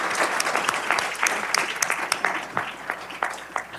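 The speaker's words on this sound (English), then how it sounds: "we're going to give a big applause to these incredibly wise people" Sustained applause from a conference audience at a summit, dense steady clapping throughout with sharper individual claps standing out, fairly loud and close, no talking over it.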